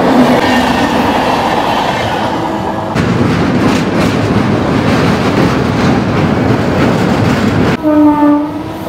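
A Shalimar Puri Dhauli Express (12821) runs at about 110 km/h, heard from inside a third-class economy coach as a loud, steady rumble of wheels and rails. A brief horn blast sounds near the end.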